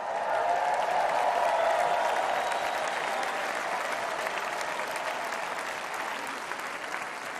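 A large crowd at the 2024 Republican National Convention applauds steadily and loudly, a dense sustained roar of clapping that slowly fades.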